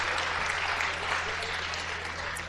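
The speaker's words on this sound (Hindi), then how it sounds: "आपने ताली बजाई" Audience at a Hindi comic poetry gathering claps steadily, a dense, sustained round of applause at even loudness from start to finish.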